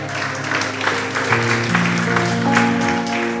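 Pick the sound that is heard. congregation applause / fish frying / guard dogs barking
congregation applause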